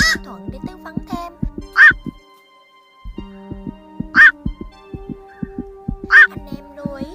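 Black-crowned night heron call recording used to lure a flock: three loud, harsh croaking calls spaced about two seconds apart, sounding out over a steady low patterned background.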